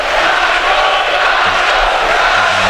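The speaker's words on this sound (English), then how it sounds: "the crowd's starting the taco chant" Hockey arena crowd at a UWSP men's game against Bethel starting the taco chant, a loud, dense wall of many voices chanting and roaring throughout, with a faint low rumble beneath.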